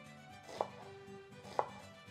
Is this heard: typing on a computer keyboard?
no